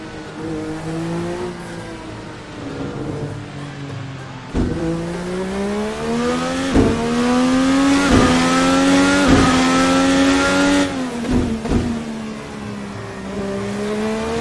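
A 2012 Indy car in the Virtual Racing Cars sim, its engine note climbing and dropping through repeated upshifts and downshifts on a push lap, loud and steady with brief gear-change breaks, no talk.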